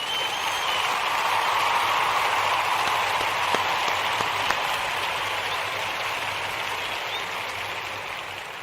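Sustained applause from a crowd, a dense wash of clapping that holds steady and then gradually fades slightly toward the end.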